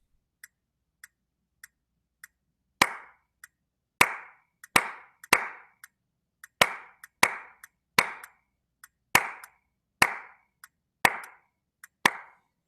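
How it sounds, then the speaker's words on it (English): Steady hand claps keep time with a music rhythm exercise. Faint metronome ticks come first, then about a dozen loud, crisp claps fall in an even pulse, with no voice. "I'm going to clap with that."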